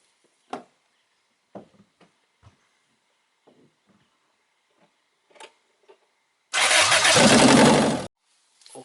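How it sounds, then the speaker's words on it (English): A Toyota Corolla engine cranks and catches in one loud burst of about a second and a half, then cuts off, with a few faint clicks and handling noises before it and a small knock after. "I go to start engine"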